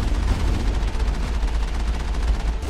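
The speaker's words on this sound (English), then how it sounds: "Stop shooting me!" Sustained rapid gunfire in the video game Mass Effect, a dense rattling barrage that stays loud and steady throughout with heavy low rumble and no pauses.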